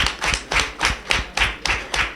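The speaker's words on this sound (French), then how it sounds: "Je vous demande de l'applaudir, s'il vous plaît." An audience at a simple farewell ceremony for a departing director claps in a slow, even rhythm, about eight distinct loud claps in quick succession, close and clear with no voices.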